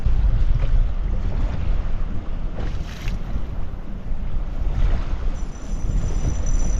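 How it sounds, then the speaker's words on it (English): Steady wind buffets a fishing boat on the St. Croix River in spring, a continuous low rumbling roar of gusts against the microphone with faint water wash, no voices. "Let's make sure your back is against that wind. It is no joke."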